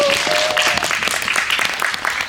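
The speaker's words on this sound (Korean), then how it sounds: "네, 큰 박수로 맞이해주세요." An audience at a film screening Q&A in a cinema hall applauds to welcome guests, a dense, steady clapping that fills the room for a couple of seconds before tapering off.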